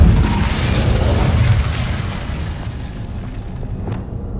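Explosive spell blasts from Bombarda and Confringo in the video game Hogwarts Legacy, a loud rumbling boom that rolls on and slowly fades, with no talk.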